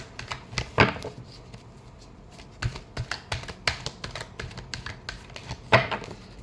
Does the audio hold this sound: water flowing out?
no